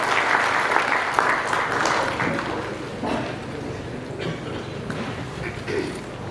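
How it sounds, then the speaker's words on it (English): Sustained applause from a large crowd, steady and fairly loud throughout, with a few scattered voices and louder claps now and then. "A huge round of applause to our chief guest."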